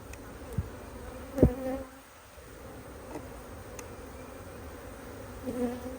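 Honeybees hum around an open nuc box during a hive installation, a faint, steady drone with a few brief knocks and bumps from handling the frames.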